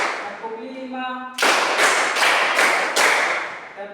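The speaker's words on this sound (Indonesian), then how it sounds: "Tepuk 1, tepuk 2, tepuk 3, tepuk 4, tepuk 5," In a junior high school maths classroom, a voice speaks briefly before the class claps in unison. Five sharp, evenly spaced group claps follow in a counted rhythm, loud and close.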